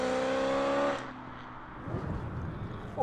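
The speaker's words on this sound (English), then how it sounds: "Obviously fully decatted exhaust." A 668 bhp supercharged BMW M3 with a fully decatted exhaust roars at high revs, then drops off abruptly, leaving a lower rumbling idle with a brief throaty burst at the end.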